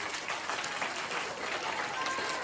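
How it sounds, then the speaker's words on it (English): Students in a school audience applaud participants at a house quiz competition, a steady, dense clapping that carries at an even level for the whole stretch with no voices. "please give a round of applause"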